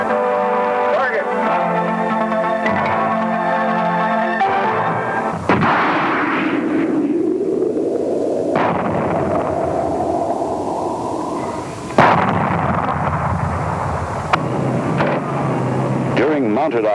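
Armored twin-tube missile launcher on an M2 vehicle firing, a loud booming launch blast followed by a long roaring rush and a second sharp blast, with a steady mechanical drone and narration running underneath.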